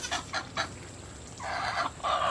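Several short clucking calls from a turkey, then a longer, louder gobbling burst, fairly close, with no talking.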